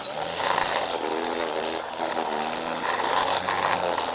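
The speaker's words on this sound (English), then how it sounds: "this weed whacker will take that off" A weed whacker trims along yard edges near a lawn, its motor droning loud and steady up close with a slight dip partway through, the line whirring continuously without pauses.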